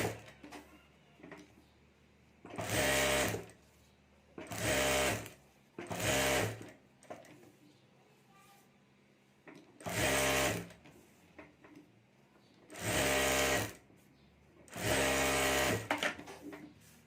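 A sewing machine stitches fabric laid over a rubber sheet for a homemade mobile cover, running in six short whirring bursts of about one to two seconds each, separated by pauses, close and clear.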